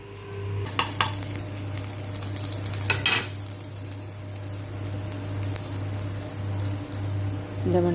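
Butter and bread frying in a hot pan on a tawa, a steady soft sizzle under a constant low hum, with a few brief clinks and stirring scrapes near the start and around three seconds.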